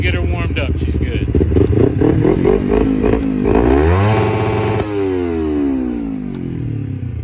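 A 250 motorcycle from a budget build revs hard after warming up, its engine rising and falling sharply in pitch through quick throttle blips, loud and close.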